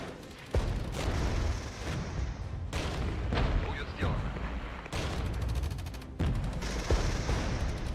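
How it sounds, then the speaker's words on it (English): Artillery fire in the video game Regiments sounds as a run of heavy booming blasts and crackling gunfire, arriving in repeated bursts every second or so over a rumbling battlefield background. "Let's use the artillery."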